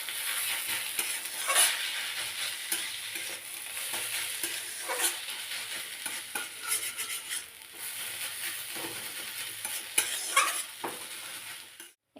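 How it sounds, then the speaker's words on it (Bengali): Semolina sandwich filling of vegetables and spice powder frying in a pan gives a steady close sizzle, broken by soft scraping stirs and the occasional clink of a utensil, with no talking. "ভালোভাবে এগুলোকে আমি ভেজে নেব।"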